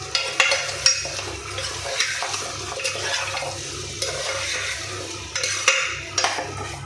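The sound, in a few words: stirring salt and turmeric into goat trotters in a pan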